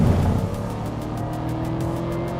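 Chevrolet Camaro ZL1 convertible with a 659 hp engine on a race circuit, giving off a steady, loud engine drone without strong acceleration, continuous and close.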